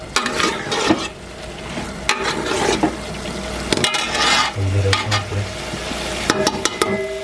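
Chicken biryani mixture stirred in a pan over a high flame, loud continuous sizzling broken by repeated scraping strokes and a few sharp clanks of the utensil.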